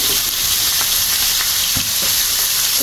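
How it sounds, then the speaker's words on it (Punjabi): Okra and onions fry in a pan with a dense, continuous sizzle and a few soft stirring scrapes. The sound is close and steady, with no talking. "ਦੂਸਰੀ ਸਾਈਡ ਪਿਆਜ਼ ਤੁਸੀਂ ਦੇਖ ਸਕਦੇ ਥੋੜਾ ਸੇਕ ਲੱਗ ਗਿਆ ਹੈ ਇਹਦੇ ਵਿੱਚ ਹੁਣ ਭਿੰਡੀ ਐਡ ਕਰਾਂਗੇ"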